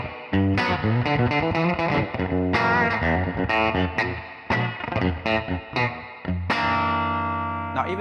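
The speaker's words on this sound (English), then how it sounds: "the tremolo system on this Princeton Reverb is just magical" Fender Princeton Reverb amp giving a clean guitar tone with pulsing tremolo and reverb, chords and single notes ringing out loudly with a shimmering wash and long decaying tails, no voices over it.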